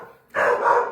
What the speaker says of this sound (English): that's my guard dog.